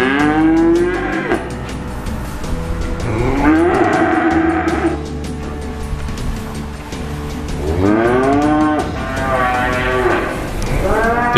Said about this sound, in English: Many farmers have now got cattle housed inside.